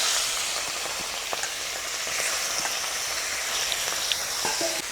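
Fresh prawns fry in oil left over from frying potatoes, a soft, continuous crackling sizzle with scattered pops throughout, and no voices.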